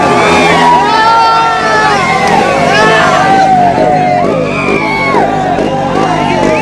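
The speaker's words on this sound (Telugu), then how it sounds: "ఆ విజిల్స్, ఆ కేకలు." A dense outdoor crowd of RCB cricket fans in Hyderabad shouts, whoops and blows shrill rising whistles, loud and continuous, with many overlapping voices.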